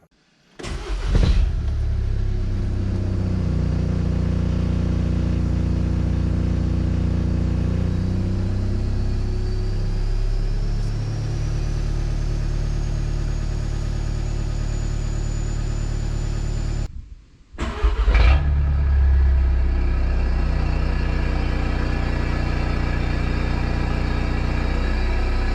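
A VW Jetta Sportwagen TDI with a deleted DPF and aftermarket exhaust drones loudly and steadily while driving, with a brief drop in engine note partway through before it picks back up.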